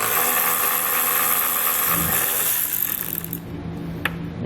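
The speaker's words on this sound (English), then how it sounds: "grab a T30 Torx bit and we're going to remove the two fasteners holding our taillight in place" A T30 Torx bit on a ratcheting driver removes the two taillight fasteners on a 2018 Jeep Compass, giving a close, continuous whirring ratchet clatter that tapers off near the end.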